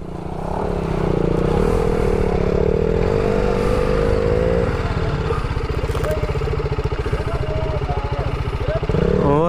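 An off-road motorcycle climbing a slope, its engine held at steady high revs with a loud, pulsing exhaust throughout, while people shout over it.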